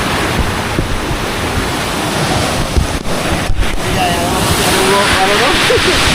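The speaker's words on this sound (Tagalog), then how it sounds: "Lakas ng alon na eh." Strong sea waves breaking on a shore, a loud continuous surf roar buffeted by wind noise against the microphone, with faint voices in the background.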